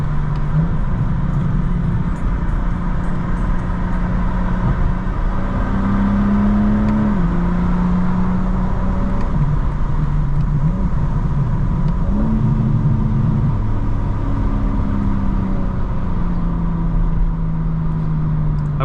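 A 2025 BMW M4 CS, active sound design off, burbling through its exhaust: a loud continuous engine note that rises and dips repeatedly as the throttle changes, heard from inside the car with no voices.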